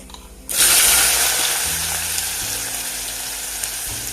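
Finely chopped onions drop into hot oil with cumin and a loud sizzle bursts up suddenly, then settles into a steady, close frying hiss that continues without talking.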